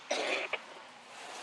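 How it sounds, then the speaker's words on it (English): A single harsh cough, followed by a short second cough, close and fairly loud, then quiet room tone. "you must smoke with a cough like that"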